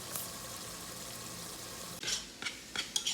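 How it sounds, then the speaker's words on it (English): Rice being stirred into browned ground beef in a frying pan for New Orleans dirty rice: a low steady sizzle, then from about two seconds on several louder scraping stirs, with no talking. "So now I can go and add the rice to the mix."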